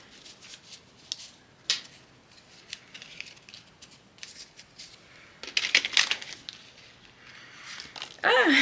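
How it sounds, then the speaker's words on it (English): Soft riffling and tapping of tarot cards being shuffled close by, in irregular bursts with a few sharper snaps toward the end. "Let me shuffle these really good."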